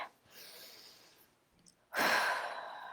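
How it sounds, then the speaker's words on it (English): A slow, quiet inhale is followed by a louder, breathy exhale as one person takes a deep breath close to the microphone, with no talking. "taking in a deep breath"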